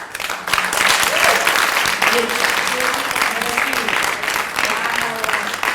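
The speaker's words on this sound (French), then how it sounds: "Je voulais bien qu'on applaudisse." Applause from an audience, continuous and fairly loud, with voices mixed in throughout the clapping.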